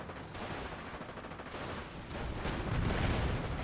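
Heavy battlefield gunfire in a Company of Heroes World War II strategy game, dense overlapping rifle and machine-gun bursts in a continuous roar that swells louder toward the end.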